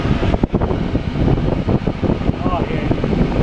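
An electric fan on an engine oil cooler runs with a loud, steady whoosh of air mixed with engine rumble, while someone speaks over it.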